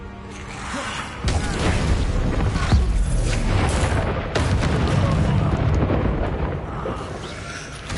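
Heavy booming blasts from Bombarda explosion spells in Hogwarts Legacy, with dense rumbling impacts and crackling debris sustained throughout and a fresh burst partway through, loud and close.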